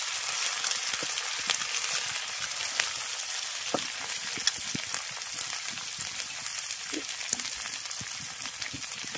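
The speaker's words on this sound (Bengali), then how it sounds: "আদা রসুনটাকে ভেজে নেওয়ার পর দিয়ে দিচ্ছি তৈরি করে রাখা মশলার পেস্ট" Masala paste sizzling and frying in a pan right after ginger-garlic paste, a steady close crackle with occasional stirring taps, no voices.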